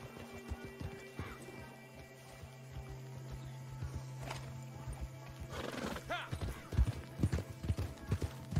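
Horse hooves clip-clop and a neigh rings out in Red Dead Online, a rhythmic run of hoofbeats building toward the end alongside a whinny, with game background sounds and some talk underneath.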